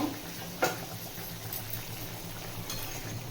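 Curry with potatoes simmers in a pan, a soft steady bubbling and faint sputtering with an occasional small pop, quiet and close with no talk.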